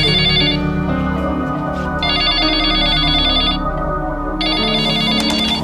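A telephone rings indoors, loud and close, in repeated electronic bursts over a sustained background tone, with no voices.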